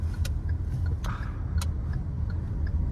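Inside a Kia Seltos, a steady low engine drone fills the cabin with faint ticks and clicks above it, constant and fairly loud with no voices.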